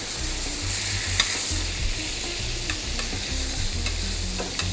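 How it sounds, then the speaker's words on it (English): Butter melts and sizzles in a hot pan beside a searing steak, a steady close frying hiss with low crackle, running alone without talk. "I like to add a little butter to the pan. Let that melt in."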